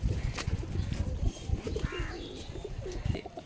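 Pigeons cooing in low, repeated murmurs, with a steady flock rumble and occasional faint chirps throughout.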